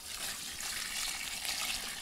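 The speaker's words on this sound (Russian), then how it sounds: "Выливаем воду." Warm water is poured out during preparation of goose feathers for a pillow, a soft continuous splashing gush heard faintly and without interruption.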